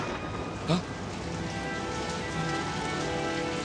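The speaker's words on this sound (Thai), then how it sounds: "ฝนเริ่มตกลงมาอีกแล้ว" Rain falling in an anime scene, a steady, even hiss of drops on surfaces with one brief louder patter early on, no speech over it.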